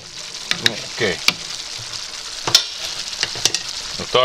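Mushrooms and buckwheat sizzle and fry in a pan with steady crackling, punctuated by sharp clinks and scrapes of a utensil stirring; no talking.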